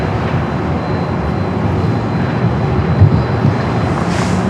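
Jet airliner, apparently a Boeing 767, at Los Angeles International Airport, a loud steady engine roar that fills the whole stretch with continuous broadband rumble and no voices.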